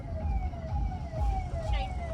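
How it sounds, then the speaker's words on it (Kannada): An ambulance siren wails with a steady rising and falling tone over low traffic rumble, fairly distant, near the Karnataka–Goa border. "ಆಂಬುಲೆನ್ಸ್ ದಾರಿ ಬಿಟ್ಬಿಡಪ್ಪ"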